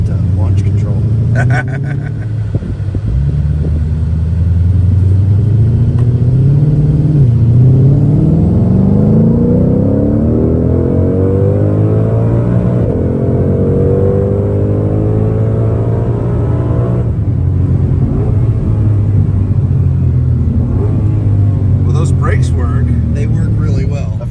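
A powerful 2020 Shelby Cobra GT500 engine revs and accelerates, its rumbling note climbing through the gears in loud, sweeping rises, close up and sustained throughout.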